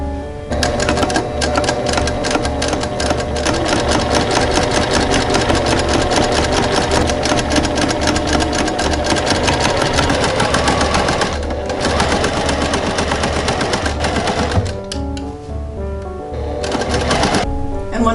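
A sewing machine runs steadily, stitching long basting stitches along a dress for shirring, its fast rhythmic whir close and loud and continuing almost without pause.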